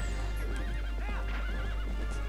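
Horses in The Legend of Zelda: Twilight Princess neigh and whinny in several wavering calls over a steady clip-clop of galloping hooves, loud and close.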